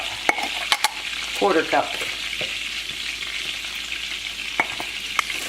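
Water gravy roux of flour and water being stirred in a pan, a soft scraping swirl with a light sizzle, with a brief voice and a few sharp clinks of a spoon against the pan.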